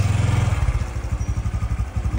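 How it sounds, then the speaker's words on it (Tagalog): A brand-new Honda CT125 motorcycle engine idles close by, a steady low throbbing pulse that runs throughout, loud and alone without any talk. "Patayin natin yung makina para magkakinigan."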